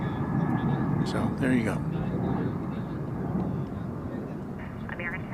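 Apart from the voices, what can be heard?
airliner taxiing at DFW Airport toward takeoff for Toronto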